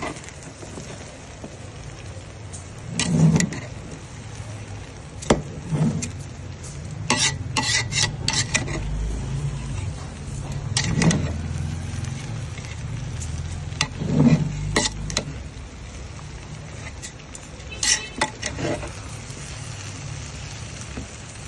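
Sugar is mixed by hand into sweet zarda rice in a cooking pot: soft, wet rubbing and squelching stirs come in irregular bursts over a steady sizzle-like hiss, close up, with no talking.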